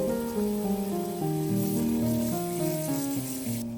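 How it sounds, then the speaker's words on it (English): Blanched meat rinsed under running water, a steady soft splashing wash that sits low beneath continuous melodic background music. "After blanching, give it a quick rinse."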